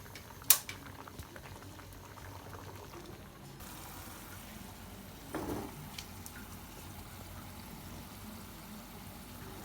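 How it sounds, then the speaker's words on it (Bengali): Snake gourd and lentils cook in a pot with a steady, soft bubbling hiss, broken by a sharp click early on and a brief clatter about halfway through. "ডাল দিয়ে চিচিঙ্গা রান্না করতেছি"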